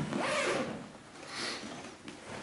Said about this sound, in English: there's a zipper in the bottom of the lining, which you can open